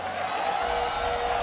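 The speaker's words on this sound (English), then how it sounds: "The crowd loved the failed ward there." Esports arena crowd at a League of Legends World Championship tiebreaker, a steady roar of cheering and whooping swelling across a short burst, with broadband noise throughout.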